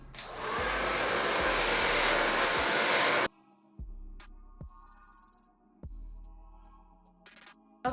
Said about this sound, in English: I'm gonna take my blow dryer and just press it into place.